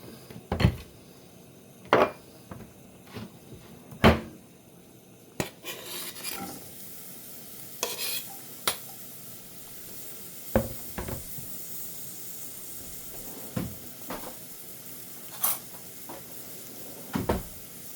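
Onions are stirred into a generous pour of hot extra virgin olive oil for pasta arrabbiata, with a soft, steady sizzle beneath sharp, sporadic clinks and knocks from a utensil against the pan.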